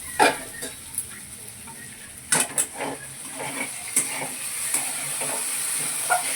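Diced potatoes frying in oil in a pan for sabudana khichdi, a steady close sizzle with occasional sharp clatters of stirring against the pan.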